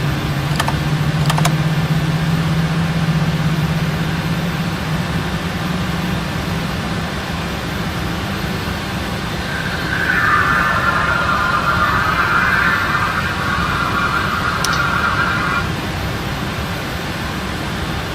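Boeing 747 jet engines spooling up in the PMDG flight simulator, a steady broadband roar with a low hum and a rising whine partway through, loud and continuous, with a few faint clicks.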